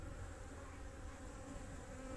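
Faint buzzing of honeybees drinking water among stones beside melting snow in winter hums steadily, a soft continuous drone with no voices.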